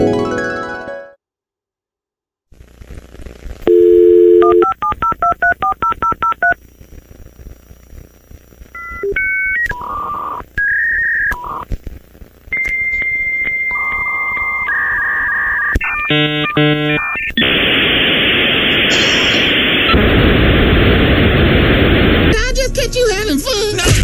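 A home dial-up internet modem dials out in a rapid run of tones, then moves through the familiar connection handshake: steady pitched beeps, warbling squeals and a final burst of loud hissing static, all close and loud.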